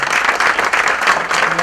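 An audience at a talk event breaks into loud, continuous applause, a dense wash of clapping hands with a faint murmur of voices underneath.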